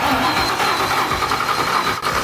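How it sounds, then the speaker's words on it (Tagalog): An old Mustang GT engine cranks over on the starter after sitting neglected in a field, a loud, close, rhythmic churning that never catches, with no speech. "nagkikrank na kahit paano"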